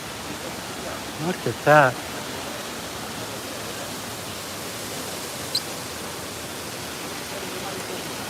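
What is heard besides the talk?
water flowing at the Trevi Fountain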